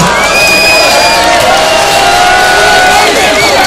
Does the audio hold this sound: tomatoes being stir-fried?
no